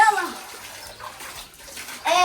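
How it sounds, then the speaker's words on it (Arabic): Bath tap water running into a tub that is close to overflowing, a steady hiss of water with brief splashy bursts at the start and end, while a voice and other speech come and go over it. "تعال طفي المي، لانه شوف المي راح تطلع لبرا"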